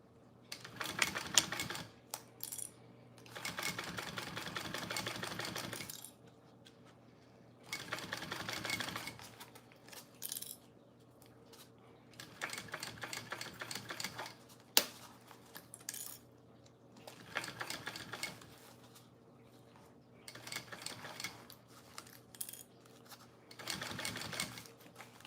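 A home sewing machine stitches an Itty Bitty Bowler Bag from a Sew Yours pattern, running in repeated rattling bursts of several seconds each, separated by short pauses, close and fairly quiet.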